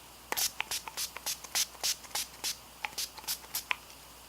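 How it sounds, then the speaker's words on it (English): A series of short, soft makeup setting spray hisses in quick succession, about a dozen bursts, close and fairly quiet. "do some setting spray"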